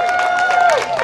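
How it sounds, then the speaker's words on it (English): Crowd applause for police officers and firefighters at a National Night Out community event, a steady dense patter of clapping over a held tone and speech throughout. "how about a round of applause for our police officers and our firefighters every day?"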